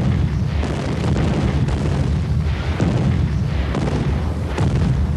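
A sustained World War II artillery barrage from more than 2,000 guns, heavy continuous rumbling booms with repeated louder blasts rolling over a dense low roar.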